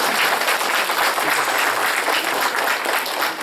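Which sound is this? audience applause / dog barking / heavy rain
audience applause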